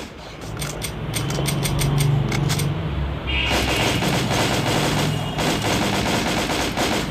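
Loud, continuous bursts of automatic video game gunfire with headshots, rapid repeated shots over a steady mechanical background, no speech.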